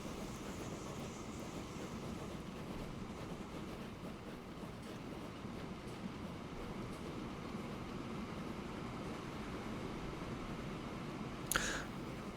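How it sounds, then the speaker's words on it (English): A passenger train arrives in the Transport Fever 2 video game, a steady rolling rumble of rail cars holding at a constant moderate level throughout, with a brief sharp click near the end. "Right, the passenger train's now here."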